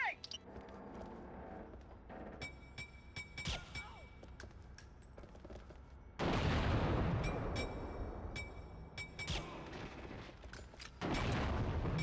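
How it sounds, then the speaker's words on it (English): A grenade blast in the shooter game 007: Agent Under Fire lands as a sudden loud, broad roar that swells and rumbles on over scattered gunfire and game effects, with a second burst of noise near the end. "Oh, shit, that's a grenade"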